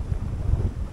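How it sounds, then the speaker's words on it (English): Strong gusts of wind buffet the microphone on a small pier by a lake, a steady low roaring rumble with no talking. "Oh, it's windy."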